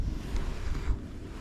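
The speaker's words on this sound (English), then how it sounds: "Getting kind of windy out there" Gusty wind rumbles and buffets continuously, low and blustery, while out fishing for bluegill and bass, with no voices.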